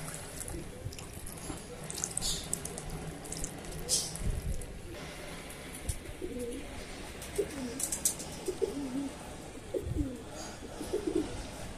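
Pigeons on a rooftop give soft, low repeated coos in the second half, with running water splashing from a tap nearby and some faint talk in the background.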